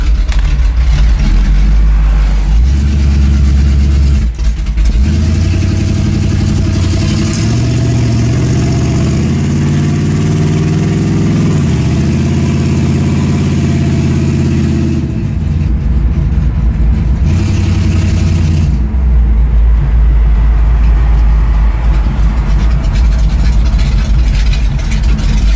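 A 1971 Pontiac LeMans Sport engine runs loud with its exhaust cutouts open, a deep, close rumble that idles, revs up through several rising and falling pulls in the middle, then settles back to a heavy throbbing idle.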